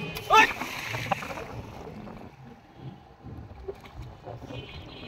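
Bathing in the Buriganga river at Kamrangirchar, Dhaka, near a boat: a sharp close splash of water, then quieter lapping and rippling, with a faint voice in the background.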